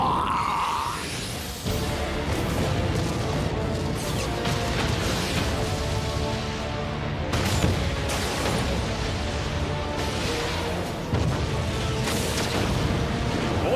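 Dense, continuous booming and crackling of huge anime fireworks shot downward, loud and sustained with repeated heavy blasts layered over a roaring background.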